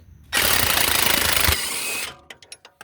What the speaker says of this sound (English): I'm going to use the impact and hope for the best